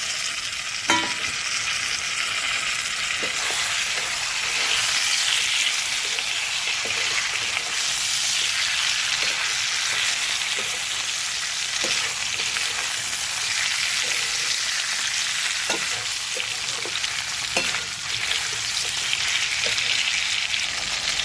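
Mixed vegetables frying in a spice paste for a Bengali shukto, a steady broadband sizzle with scattered spoon scrapes and stirring knocks running throughout, close and alone with no voices.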